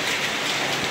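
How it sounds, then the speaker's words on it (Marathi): Heavy rain with hail and strong wind pours in a dense, steady roar, close and loud, with no break across the moment. "खूप जोराचा वारा आहे आणि गारांचा पाऊस आहे."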